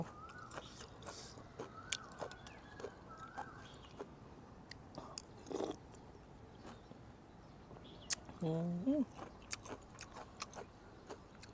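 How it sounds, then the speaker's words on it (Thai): Crunchy food is chewed close up in a series of soft, irregular crunches and bites over a quiet background, with a brief low hum partway through, alongside a spicy Nakhon Phanom-style rice noodle dish. "กรอบมากๆกึดกึด"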